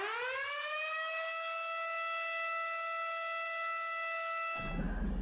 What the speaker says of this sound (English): There'll be a startup siren.